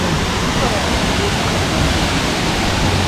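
Water pours over the Vazhvanthol forest waterfall near Trivandrum, heard up close as a loud, constant, broadband roar with no break or change in level.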